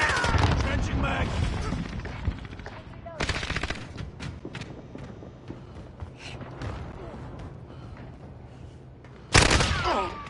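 Video game gunfire in a PS4 shooter, loud bursts of rapid automatic shots at the start and end with scattered single cracks between, and voices talking over the action.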